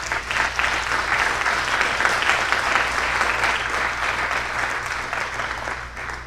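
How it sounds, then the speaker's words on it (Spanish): A church congregation applauds at length, steady dense clapping from many hands held at an even level throughout, with a low constant hum underneath. "Den un aplauso al Rey."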